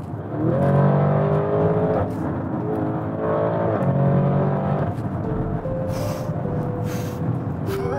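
A Lamborghini Urus SUV engine revs up and down through several pulls, its exhaust note rising in pitch each time, loud and close.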